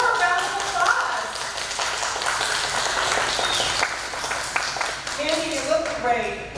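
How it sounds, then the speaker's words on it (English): Audience applause and scattered clapping greet a pinup contestant at a patriotic pinup contest, a steady wash of hands under cheering and voices talking over it. "Come on up, Mandy, for a round of applause."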